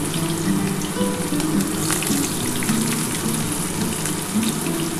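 Chopped onion hits hot oil for a bata fish curry and sizzles in a steady, close, crackling hiss that holds evenly throughout with no voices.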